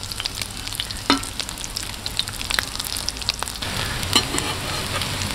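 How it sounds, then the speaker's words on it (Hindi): Egg potato kebabs fry on low heat in a kadai, a steady close sizzle throughout with scattered crackles and pops, louder in the second half. "पोटैटो कबाब को हम हल्की आंच पे बनाएंगे ताकि ये अच्छी तरह अंदर तक सेक लग सके इन्हें।"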